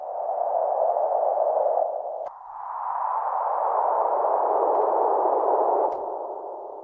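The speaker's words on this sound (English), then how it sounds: "let's try maybe this wind noise" Synthesized wind noise drones as a smooth, tonal whoosh that swells and dips, with a brief drop near the two-second mark and a gentle fade toward the end, heard alone.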